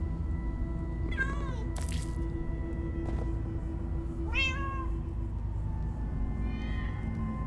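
Cats meow in Minecraft Story Mode, with three or four distinct rising-falling meows spaced a second or two apart over a low steady game background hum, with brief clicks in between.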